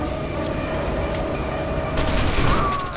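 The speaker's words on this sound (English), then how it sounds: "I've been shooting so many guys on the other side" Gunfire in the video game FEAR 2 during a tram ride, a dense rattling fusillade under a rumbling rail-like background, swelling louder in the last second.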